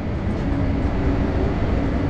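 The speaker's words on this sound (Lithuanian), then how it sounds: "Traukinys važiuoja." A train runs near Fiumicino, Italy, giving a continuous, dense rumble with a broad roar that holds steady and fairly loud throughout, with no clear voices.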